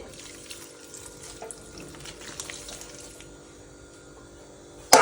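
A thin stream of water runs quietly and steadily into batter, close by, ending with a sudden louder clatter at the very end.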